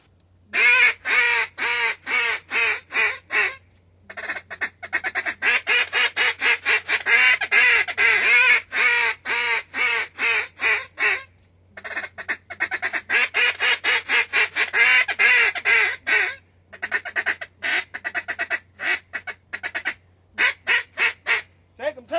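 A flock of geese honks loudly and repeatedly in rapid bursts, calls overlapping in dense clusters with short pauses between, close by over a low hum, on a hunt at Sauvie Island, Oregon.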